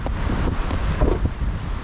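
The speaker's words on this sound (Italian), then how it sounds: "anche se c'è un po' di vento" Strong wind at the seaside in Montevideo on a sunny morning buffets the microphone in a steady, roaring rush with gusty swells and no voices.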